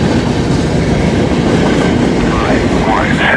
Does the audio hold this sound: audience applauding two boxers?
no